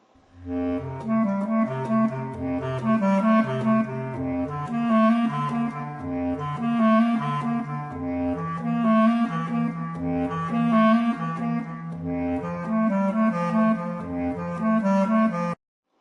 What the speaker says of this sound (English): This is actually called the bass clarinet, and here's an example of what it sounds like.